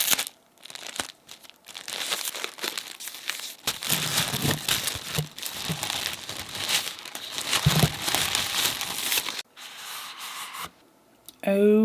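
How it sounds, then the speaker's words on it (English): Viseart eyeshadow palette packaging being unwrapped up close, with irregular bursts of crinkling and tearing plastic that stop briefly near the end, and a voice speaking. "Let's unwrap them together."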